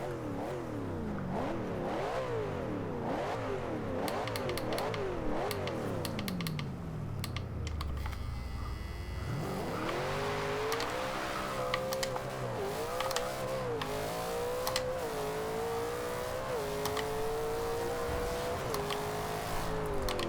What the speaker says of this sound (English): you can hear the twin turbo spooling just barely under that massive